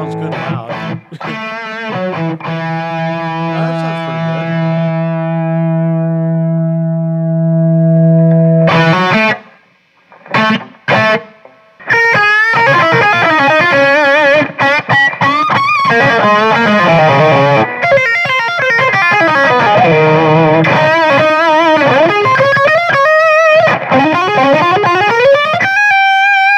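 A heavily distorted electric guitar plays loud, sustained lead lines and bends through a Peavey 5150 amp's lead channel, with a brief choppy pause before launching into a fast solo.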